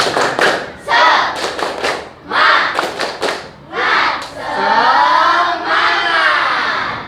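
Schoolchildren at an elementary school perform a rhythmic group clapping chant, bursts of claps alternating with shouted chant phrases, loud and close, ending in a sustained collective shout.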